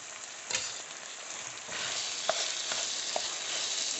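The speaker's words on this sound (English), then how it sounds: "Then mix everything together." Meat pie filling with spring onion is mixed in a hot pan, giving a steady low sizzle with a few soft scraping strokes and light clicks of a spoon against the pan.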